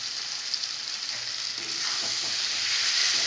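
Fried sattu being stirred in a cooking pan over a village straw fire, a soft continuous scraping and hiss that grows slightly louder toward the end, close and alone.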